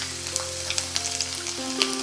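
Chopped garlic sizzles in hot mustard oil with whole cumin seeds for an egg tadka, a dense, steady close frying hiss with small crackles and occasional stirring clicks.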